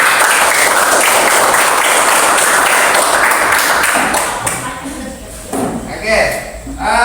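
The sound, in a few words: classroom applause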